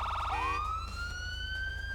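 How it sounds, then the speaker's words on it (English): A police siren tone from a GTA 5 emergency vehicle mod, a clean electronic wail sweeping up after a brief stepped tone and holding high, loud and continuous with no talk. "When the siren is active, tapping the horn again will change to the next siren tone."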